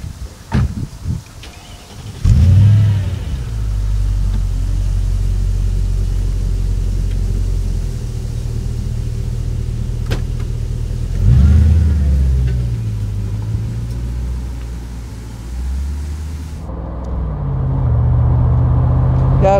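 A 2002 Mercedes SL 55 AMG with a supercharged 5.5-litre V8 rumbles loudly up close as it drives, its engine note swelling in two strong surges of acceleration before easing, with the drone steady between pulls.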